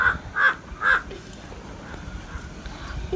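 A crow caws three times in a steady rhythm, loud and fairly close, then falls silent over faint outdoor background noise.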